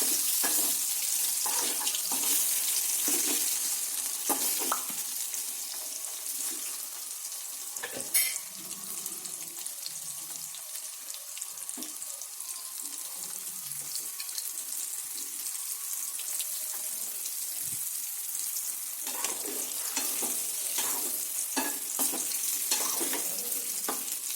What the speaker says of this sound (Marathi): सर्व कट केलेले आलू एकदाच सोडायचे, असं दोन दोन तळून नाही घ्यायचे, एकच सोडायचे। छान तेलामध्ये परतून घ्यायचे।